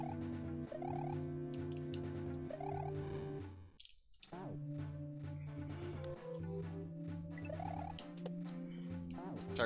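Synthetic turkey-like gobbling bursts from a video game's soundtrack repeat in rhythmic runs over sustained tonal game music, with a brief near-silent gap midway and a single short spoken exclamation.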